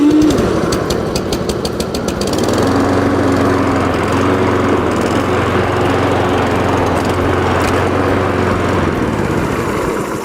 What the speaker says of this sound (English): It's the first time this mower's been started.